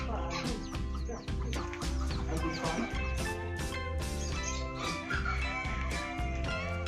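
Native chickens cluck repeatedly alongside a rooster-like call, busy overlapping fowl sounds close by and fairly loud throughout a poultry cage setting.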